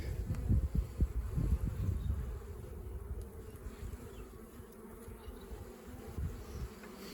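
Honey bees swarm around open hives at an Australian apiary, a dense continuous buzzing hum with some close rustling and handling noises early on, steady and moderately loud, no voices.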